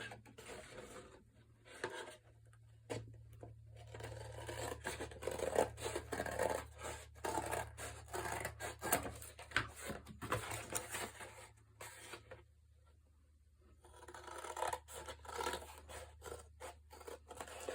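Scissors snipping through a cardboard brownie box flap, a run of crisp, scratchy cuts close by, pausing briefly near the middle before resuming, over a low steady hum.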